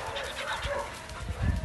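A dog barks and yips close by in a home, with rough, short bursts mixed with a person speaking Hungarian to it in the background.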